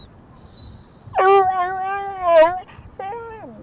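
A dog, a gentle walker's charge prone to separation anxiety, gives a few high, drawn-out whining whimpers up close, rising and wavering in pitch, with short pauses between cries and no talk over them.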